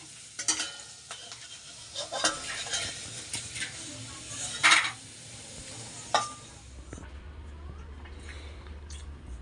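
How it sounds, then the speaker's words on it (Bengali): Potato papad frying in a home kitchen pan gives a steady soft sizzle, with intermittent clinks and stirring scrapes of utensils standing out at close range. "এবারে আলুর পাঁপড় ভাজবো"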